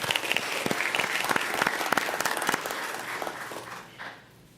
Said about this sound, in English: join me in giving a big round of applause to those who worked tirelessly to prepare for the storm